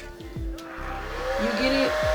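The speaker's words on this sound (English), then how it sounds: "then you're gonna blow dry it." Hair dryer blowing on the edges of the hair, a steady whooshing hum that builds slightly and gets louder over a couple of seconds, with faint rustling handling noises underneath.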